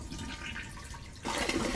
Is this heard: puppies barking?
no